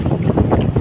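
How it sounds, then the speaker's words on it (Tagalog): Loud, gusty wind buffets the microphone in a continuous roar with low rumbling thuds, no voices heard. "Kaya hindi masyado maalon pero napakalakas ang hangin."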